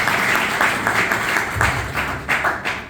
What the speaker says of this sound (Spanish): Eva Gisela Tecó Paraguay, y con este aplauso la bienvenida a los amigos.